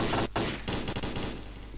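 Rapid bursts of gunfire in the video game S.T.A.L.K.E.R.: Call of Pripyat, loud and close, a dense volley with a brief gap then continued crackling shots, no talking.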